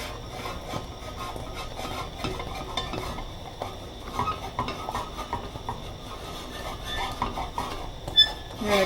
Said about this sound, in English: And keep whisking. It's going to thicken as it cooks.